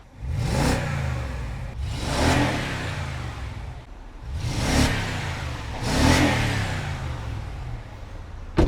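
A BMW E70 X5 V8 SUV, its engine and transmission freshly rejuvenated, revs hard in four loud bursts that rise and fall back to a steady idle, close by with no talking.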